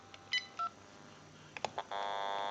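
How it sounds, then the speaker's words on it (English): A few short, faint electronic DTMF beeps from a General Electric 27909 cordless telephone keypad, then a steady, louder tone that holds to the end. "We're going to dial a 2 to cause dial tone to go away."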